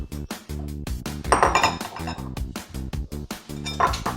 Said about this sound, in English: And now I'm gonna mix the eggs.